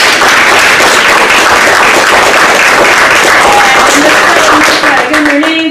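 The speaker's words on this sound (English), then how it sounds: "So another round of applause" A crowd applauding the cast of a closing dance performance, loud dense clapping that stays steady and close the whole time while a voice rises faintly near the end.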